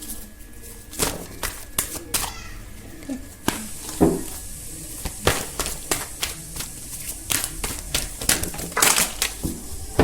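Tarot cards being shuffled by hand, a string of quick crisp flutters and soft slaps in an irregular rhythm, close and fairly light.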